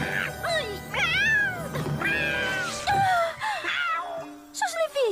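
Kitten in an animated Christmas film meowing in a series of rising, wailing cries over background music, close and fairly loud, with no speech.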